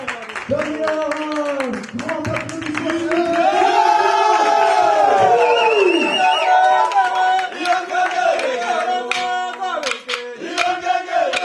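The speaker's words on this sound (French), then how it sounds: "on va inviter nos frères du Burundi, du Burundi, la nation de la parole, grand applaudissement" A crowd at a community gathering in Molenbeek claps and cheers to welcome guests from Burundi, rhythmic hand-clapping mixed with shouts and singing voices, loud and close, with talking throughout.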